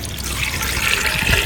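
Water streams steadily into a cooking pot as potatoes are set to boil over a fire, a close, continuous splashing pour lasting a moment with no talk.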